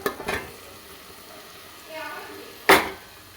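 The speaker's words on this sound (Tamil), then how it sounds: "சேர்த்துட்டு உப்பு கொஞ்சம் போட்டு வதக்கி விட்டுடலாம்" Bottle gourd sautés with masala in a pan, a low steady sizzle broken by a few sharp stirring scrapes and clinks of a spoon against the pan, close up.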